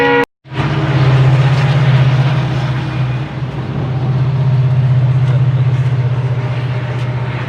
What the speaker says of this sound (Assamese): আহি আছে ট্ৰেইনখন চাই লওক আপোনালোকে